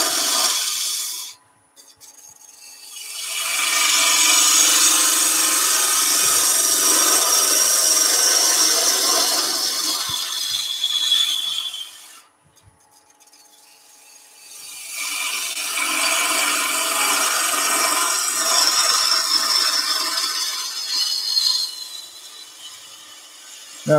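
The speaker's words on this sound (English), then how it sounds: "go with the bowl gouge on that. It literally is just turning" Wood being cut on a lathe with a gouge, a loud sustained scraping hiss in two long passes separated by a short pause.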